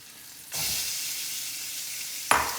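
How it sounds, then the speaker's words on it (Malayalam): Eight pieces of chicken drop into a hot pan and burst into a loud, steady sizzle, with a second sharp flare of frying near the end; no one speaks. "ഈ 8 പീസ് ചിക്കൻ നമ്മൾ ഇതിനകത്തോട്ട് ഇടുകയാണ്."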